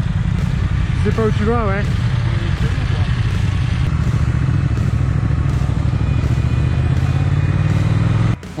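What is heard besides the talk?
Triumph Speed Twin motorcycle riding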